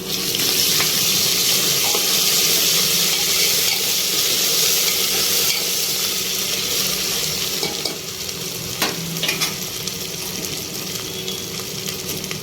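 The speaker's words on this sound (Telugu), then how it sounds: "ఇది కొంచెం మంచిగా ఫ్రై చేసుకొని" Ginger garlic paste and turmeric frying in a pan for a taro curry give off a loud, constant sizzle and hiss, with stirring scrapes throughout and a few sharper clinks near the end.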